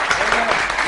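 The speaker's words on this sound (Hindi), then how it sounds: "तो फिर आप सब लोग जरा तालियां बजाएं उन सारी औरतों के लिए" An audience claps for women who make roti at home, a brief burst of dense applause with a voice talking over it.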